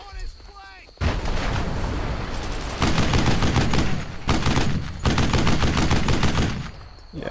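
Gunfire in the World War II shooter Brothers in Arms: Earned in Blood pours out as dense, loud, near-continuous volleys of rapid shots. It breaks only briefly between bursts and dominates the whole stretch.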